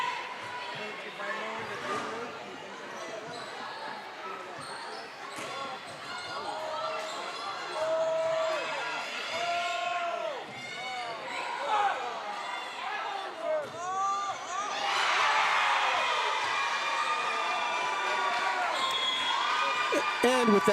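Crowd noise at a high school JV volleyball match in a gym, with ball bounces, squeaking shoes and scattered shouts rising into louder cheering near the end, heard from the stands.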